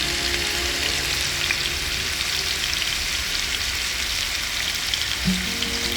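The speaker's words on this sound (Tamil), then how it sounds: "எடுத்து வச்ச 1/2 கிலோ சிக்கனில் பாதியை போட்டுக்கிறோம். இது ஃப்ரை பண்ணுற டைம் எவ்வளோன்னு கேட்டிங்கன்னா 2 நிமிஷங்க." Half a kilo of chicken pieces frying in a pan for butter chicken, a loud, dense, continuous sizzle like heavy rain, close and steady throughout with no talking.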